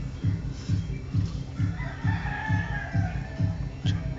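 Chickens on a household farm cluck in a steady repeating pulse close by, with a rooster's crow rising faintly in the background.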